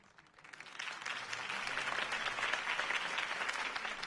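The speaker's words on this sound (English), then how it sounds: "could have heard that applause" A video game crowd applauds steadily at a city campaign speech, a dense wash of clapping that swells within the first second and then holds at an even level.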